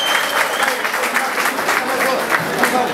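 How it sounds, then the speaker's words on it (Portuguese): An audience bursts into steady, dense applause at a motorcycle sports event, loud and sustained clapping throughout with no pause. "uma salva de palmas para o nosso mopense, Antônio Henrique, da Federação aqui."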